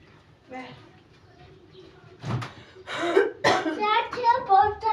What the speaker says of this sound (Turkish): Yaygın bir şekilde bu öksürük.